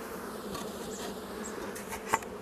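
A steady, dense buzz of many honeybees hovering around an opened wooden beehive as a beekeeper refits a frame and closes it, close and continuous with a few individual bees passing nearer.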